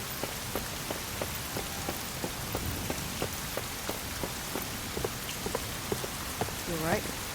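Rain falls steadily in the Wild Hearts action game, a constant hiss of drops on surfaces with regular soft taps, and a brief voice-like sound near the end.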